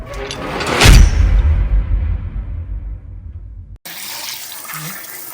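Tap water running onto freshly caught fish being washed, a loud rush of water that tails off over a few seconds before a second, steadier spell of flow.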